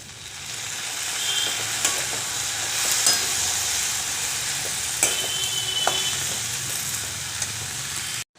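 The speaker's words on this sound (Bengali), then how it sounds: "এবার টমেটো সস দেব আর সয়া সস দেব।" Pasta fries in a pan while tomato sauce and soy sauce are stirred in, giving a steady loud sizzle with occasional scrape and clink of the spoon, no talking.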